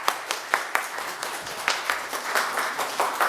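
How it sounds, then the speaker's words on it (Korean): A church congregation claps to welcome a preacher at a Sunday service, with distinct sharp claps standing out over a thinner continuous patter, moderately loud and fairly near. "큰 박수로 앞으로 모시도록 하겠습니다"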